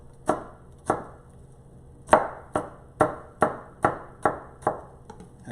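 Half a red onion being chopped with a knife on a board, about nine crisp sharp thumps in an uneven steady rhythm, close and clear with no talking.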